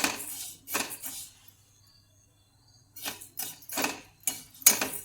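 Fennel seeds roast in a kadhai, stirred in short bursts of dry rattling and scraping, then a quiet pause of about two seconds before several more close, crisp clattering passes.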